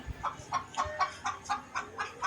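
Chickens on a farm kept for hatching chicks cluck in a steady repeated rhythm, about eight evenly spaced clucks, moderately close with no voices.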